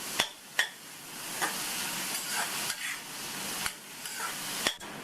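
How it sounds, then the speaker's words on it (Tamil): Chopped mushrooms sautéing in butter for a soup, giving a steady soft sizzle with a few sharper stirring knocks, close and fairly quiet, with no talking. "இப்போ இந்த வெண்ணெயிலேயே இதை 2லேருந்து 3 நிமிஷம் வதக்கிக்கலாம்"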